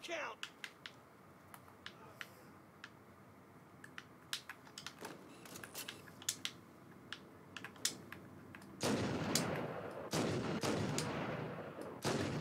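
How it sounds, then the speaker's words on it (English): Marines firing weapons in Halo: Combat Evolved, a steady patter of sharp distant shots scattered across the scene, turning into a louder dense burst of fire near the end, with players talking over it. "Oh no, that's the Marines shooting."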